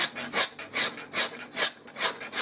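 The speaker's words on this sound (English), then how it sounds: "even the back of the blade enables me to take that sawn" The back of a blade scrapes a sawn wooden edge smooth in about six loud, evenly spaced rasping strokes up close, with no talking.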